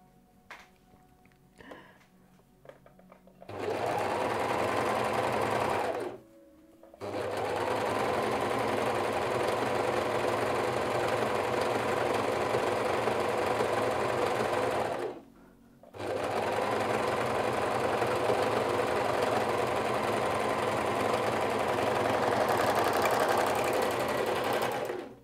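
A sewing machine topstitches a pair of shorts in long steady runs, loud and close, pausing twice briefly before resuming at an even pace.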